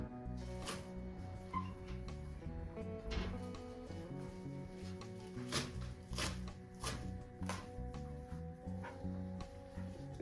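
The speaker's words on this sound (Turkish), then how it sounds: "güzelce doğruyorum" A knife chops mallow leaves on a board in steady, repeated cuts, each stroke a crisp thud, close and fairly quiet with no talking.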